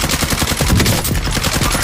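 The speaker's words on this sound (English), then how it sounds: "The AMAX is a full automatic assault rifle." Fully automatic AMAX assault rifle fire from Call of Duty Warzone on Rebirth Island, a loud, dense stream of rapid shots with no pauses.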